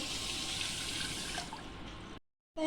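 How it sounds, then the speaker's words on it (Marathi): A glass of water pours into a pot containing sugar, a steady rushing splash that thins out and then stops abruptly before a short clatter. "आता एक ग्लास पाणी टाकू"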